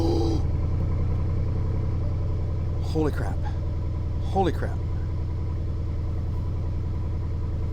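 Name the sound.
car engine starting and idling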